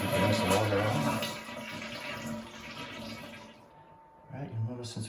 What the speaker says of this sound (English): Go ahead and flush it to get the rest of the water out.